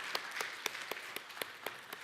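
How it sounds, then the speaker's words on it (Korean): Congregation applause at the close of a Sunday church service in Baltimore, heard as soft, distant, sparse claps spaced about every quarter second, steady and faint over a quiet hall. "다시 한 박수 한번 부탁드립니다."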